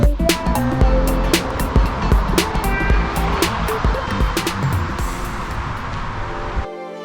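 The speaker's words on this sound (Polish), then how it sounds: "Słychać szum, ale niestety to nie wodospad, tylko obwodnica." A steady, broad roar of distant ring-road traffic heard from woodland in Gdynia, Poland, a constant hum with scattered small clicks and rustles over it.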